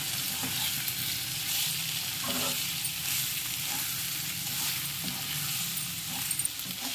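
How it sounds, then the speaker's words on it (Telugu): Brinjal (eggplant) fry with masala sizzles steadily in a pan at close range, a constant hiss with a few faint stirring scrapes and no voices. "ఇంకొక నిమిషం వేపుకుందాం అండి"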